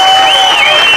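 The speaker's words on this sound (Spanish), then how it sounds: "sin aplausos porque si no, no acabamos." A crowd at a union solidarity rally in Xixón claps in a short, loud burst of applause, with a few voices mixed in.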